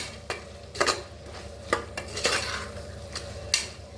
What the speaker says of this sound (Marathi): आता छान मिक्स करून घेऊया बघा छान असा मसाला भाजून घ्यायचा